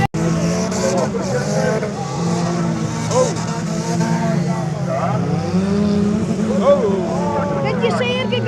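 At a farmers' car event, a powerful car engine revs and roars loudly with rising and falling pitch sweeps, joined by tire squeal, while people talk over the steady mechanical din.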